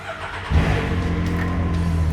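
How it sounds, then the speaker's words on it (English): A Can-Am Maverick X3 side-by-side engine cranks and catches after a short quiet lead-in, then settles into a steady, loud running rumble close by, idling to warm up after an oil change. "Then start your engine and let it warm up."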